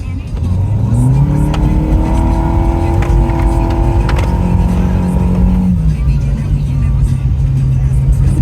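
A car engine with a misfire condition revs up, holds a high, rough drone, then drops back to a lower idle. The sound is loud and close and runs without pause the whole time.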